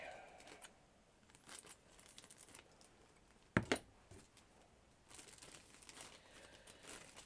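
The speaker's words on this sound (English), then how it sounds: "Just cut it from a plastic bag." Quiet crinkling and rustling of a thin plastic bag close by, with a sharp snip as a piece is cut from it midway and soft handling noises around it.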